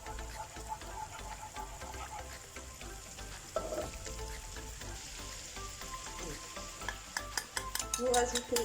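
Flour stirred into three tablespoons of melted butter in a pan for a lasagna sauce, a steady scraping stir over a soft sizzle, near and continuous, with sharper utensil clicks toward the end.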